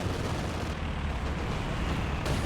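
Explosive blast from a grenade in a World War II tank battle game, a dense, loud rumbling boom that fills the whole moment without a break, with no talk over it.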